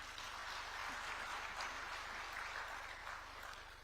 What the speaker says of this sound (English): Now, Kenya deserves a round of applause there.